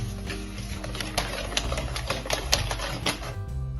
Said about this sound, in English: First we mix eggs, sugar and vanilla